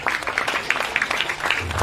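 Audience clapping at a comedy stage show, a short burst of scattered hand claps from a crowd, fairly close and lively.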